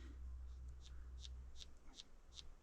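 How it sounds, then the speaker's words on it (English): Faint, sharp clicks ticking at a steady pace as wood-boring beetles chew wood in a wilderness cabin, over a low background rumble. "You can hear the beetles"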